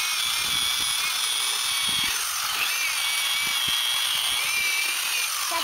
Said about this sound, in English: So now what we're going to do is drill these out.